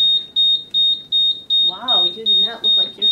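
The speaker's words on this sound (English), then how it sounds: "Mr. Smith, your alarm is going off." A smoke alarm goes off with about eight loud, shrill beeps in a fast, steady rhythm, and a person starts talking over the last few beeps.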